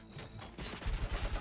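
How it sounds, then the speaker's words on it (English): Heavy machine gun fire in the RoboCop: Rogue City video game, a rapid burst of close, booming shots that builds and keeps hammering to the end over a dense background of combat noise. "Heavy machine gun, može."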